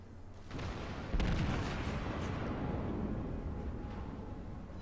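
Battleship gunfire from the German battleship Tirpitz in World of Warships, a heavy booming salvo that lands with a sudden loud thump and leaves a long rumbling roar afterward.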